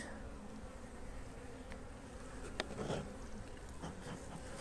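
Honeybees at a hive being worked with a smoker buzz steadily in a soft, continuous drone, close by and fairly quiet, with occasional faint taps and rustles.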